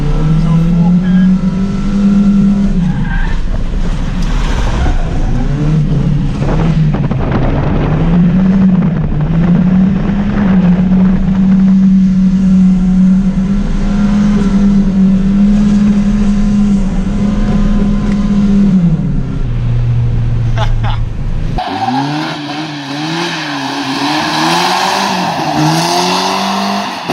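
A cheap old Volvo held at full throttle while street drifting, the engine droning and rising in pitch on wide-open revs with tires squealing, then cutting to a different roaring pass near the end.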